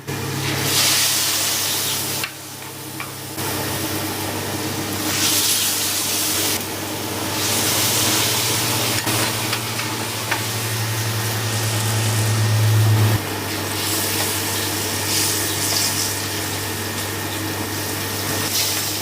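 Steady, loud sizzling and hissing of pork deep-frying in hot oil, continuous throughout with a low hum underneath and no talking.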